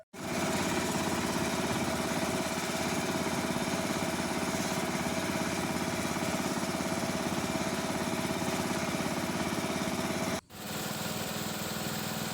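A farm tractor's engine runs steadily and loudly on a main road, a constant chugging drone that holds for about ten seconds, cuts out briefly, then resumes.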